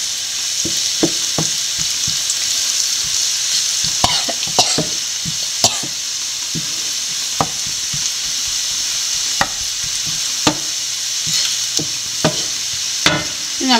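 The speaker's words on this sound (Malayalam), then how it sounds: "കുറച്ച് കുരുമുളക് പൊടി നല്ലപോലെ വഴറ്റാം." Pepper powder sautéing in a pan for a crab fry, a constant close sizzle broken by irregular clicks and scrapes of a spoon against the pan.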